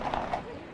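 Horse hooves clip-clopping for cavalry in 1939 Poland, a short run of quick, soft hoofbeats sitting under a faint voice.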